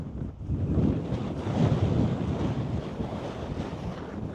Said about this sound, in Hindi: बहुत तेज़ हवा भी चल रही है